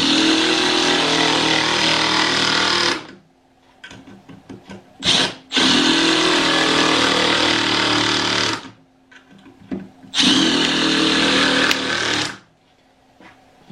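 A Milwaukee M12 drill/driver driving into a wooden board, loud whirring bursts of about three seconds each, separated by short pauses and small clicks.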